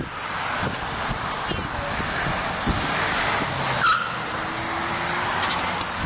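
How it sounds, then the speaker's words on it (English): Cars passing on a road beside a bike trail, a steady traffic drone with swells as vehicles go by, mixed with wind buffeting and a brief hiss like an air brake. "Got the cars over here."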